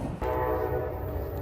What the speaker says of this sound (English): Now, this is our train